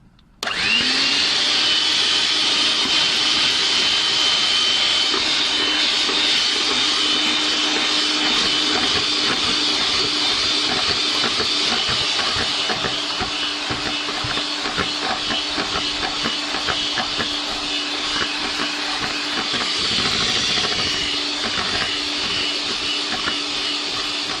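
An electric mixer whirs steadily and loudly while beating sponge cake batter as oil is poured in gradually, starting abruptly and holding a constant high-pitched drone throughout.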